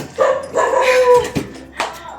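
Dog barks a few times at close range, sharp yips and bow-wows in short bursts, with household sounds in between.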